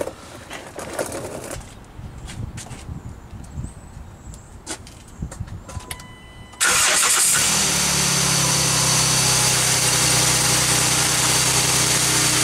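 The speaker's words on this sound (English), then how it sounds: "Now, I'm gonna start the Jeep up again" A Jeep JK engine cranks and catches after a stretch of quiet workshop noise, then settles into a steady, loud idle close by.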